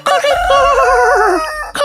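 A rooster crows in the morning in Cape Coast, Ghana, one long, loud, close cock-a-doodle-doo with a wavering tail, followed by a brief cluck at the end.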